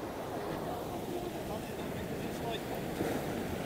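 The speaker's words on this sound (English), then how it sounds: "I wonder how often the wave hits the top of this." Sea waves wash continuously against the rocky shore along a Cyprus beach, a steady broadband rush mixed with wind buffeting, fairly faint and with no distinct crash standing out.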